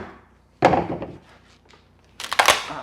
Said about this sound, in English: It's just going to split off of there with a good blow of the hammer.